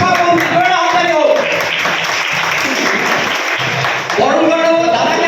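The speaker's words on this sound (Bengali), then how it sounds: "সংসদের শিক্ষামন্ত্রী হাততালি হোক।" A crowd at a school event applauds for a parliamentary education minister, steady loud clapping filling the room with speech over it, easing slightly before picking up again at the end.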